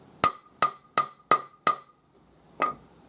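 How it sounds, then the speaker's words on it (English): A flat planishing hammer strikes a metal ring sideways, opposite the join, five times in a steady even rhythm, followed by one last blow after a short pause. Each ringing impact is close and crisp. "we're going to take the flat planishing hammer, and we're going to planish this sideways"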